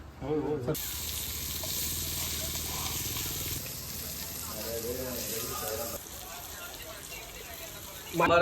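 Fish sizzling steadily in a hot pan at a Konkan village market kitchen, a continuous loud hiss with a brief burst at the start and end, while people talk nearby.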